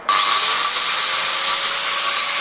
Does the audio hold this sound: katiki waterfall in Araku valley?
no